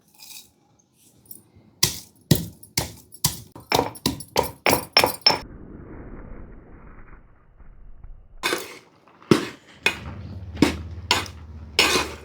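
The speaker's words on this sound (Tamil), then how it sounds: "நல்லா இடிச்சு எடுத்துக்கலாம்." Garlic cloves are pounded by hand for puli keerai, sharp close thuds striking in a quick rhythmic run of about a dozen blows, then a pause with faint rustling, followed by another slower burst of strikes.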